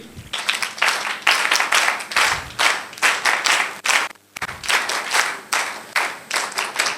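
An audience at a spiritual talk in Mysore claps together in loud, close bursts, with rhythmic waves and a brief pause near the middle before the applause resumes.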